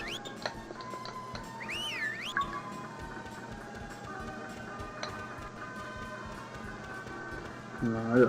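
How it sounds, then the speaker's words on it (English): A short, rising-and-falling whistled tune over a busy background of game music and ticking effects, followed by faint steady ambience. "I'll just spend this last hour whistling."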